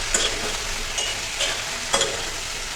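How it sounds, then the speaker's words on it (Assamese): Chicken pieces and potatoes frying in a pan for an Assamese curd chicken curry: a constant close sizzle with a few sharp stirring scrapes of a spoon at regular intervals, no talking. "আলু দি ভালদৰে আকৌ ভাজিম।"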